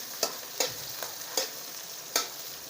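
Tomato masala sautéed in oil gives a soft continuous sizzle, punctuated by four regular spoon scrapes against the pan, close and distinct.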